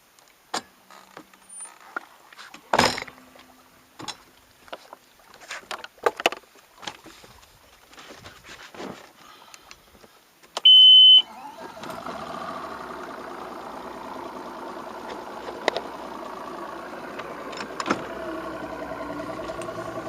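A boat motor idling on Kentucky Lake while fishing for white and yellow bass, setting in partway through as a steady low droning hum after scattered clicks and knocks and a brief beep.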